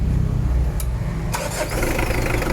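A car engine cranks during a hard-starting attempt, a loud, close churning that ends in a sharp catch and then rough running.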